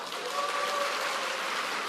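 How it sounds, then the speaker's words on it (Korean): Audience applause at a quality concert keynote lecture, a soft, distant, even patter of many hands clapping that holds steady for under two seconds without speech. "내가 매력남이다 생각하신 분들 박수 한번 크게 주시죠."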